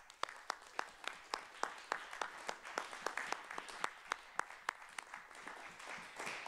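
Sparse, steady hand claps from a small group, sharp and evenly spaced, applauding municipal staff teams at an evening youth municipal council meeting.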